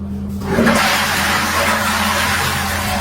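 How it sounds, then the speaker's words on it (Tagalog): A hotel bathroom toilet flushes loudly after a brief quiet moment, a close rushing gush of water that holds strong for a few seconds with a low hum beneath it. "Pinasikat ko lang yung aking CR at yung pag-flash niya na parang isang planggana kaagad ng tubig ang nasayang."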